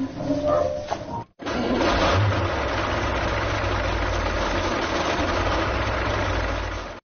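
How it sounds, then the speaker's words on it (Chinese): A military tank engine with one cylinder not firing runs at a steady, loud idle with a low, heavy rumble; it stops abruptly for a moment near the start, then continues unbroken to the end. "然后通过发动机排烟管，可以断定发动机有单缸不工作"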